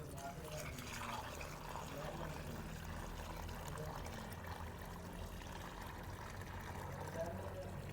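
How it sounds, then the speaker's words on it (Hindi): Water poured from a container onto gathered soil being mixed into mud for a handmade clay stove at a village home, a steady splashing pour heard close up for the whole stretch over a low background rumble. "मिट्टी मैंने सारी इकट्ठी करके डाल दी और अब इसमें पानी डालती हूँ लाकर।"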